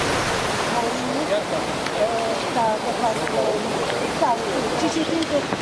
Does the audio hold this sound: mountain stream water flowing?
yes